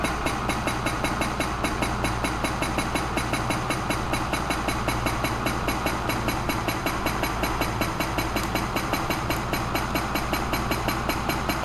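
A hydraulic breaker in Farming Simulator 22 pounds boulders in a fast, steady mechanical hammering, loud and continuous over a droning engine, with no talk.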